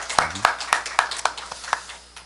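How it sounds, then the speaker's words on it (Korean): A church congregation at a New Year's Eve worship service claps in encouragement, about eight distinct sharp claps at a steady rhythm that thin out and fade, with faint murmuring beneath. "영광 올려드린 우리 유재 집사님 격려의 박수 한번 다시겠습니다"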